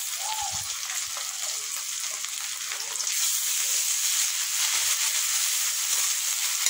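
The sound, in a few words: frying ginger garlic paste with cumin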